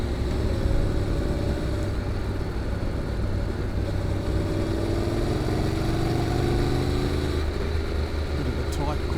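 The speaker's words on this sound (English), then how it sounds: "hear the muffler kicking in and bottom end torque. Accelerating out here." Honda NC750X motorcycle fitted with a GPR muffler accelerating out of a tight corner onto a double-lane road, a steady engine drone rising under wind noise throughout, close and continuous.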